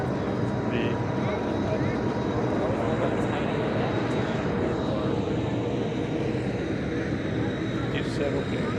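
Airplane engine roaring steadily at a USAF airshow base, a loud continuous drone with crowd and outdoor noise mixed in.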